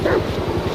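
A dog barks in a forest setting inside a video game, heard as a very brief burst of rapid, rhythmic yelping over a busy game soundscape.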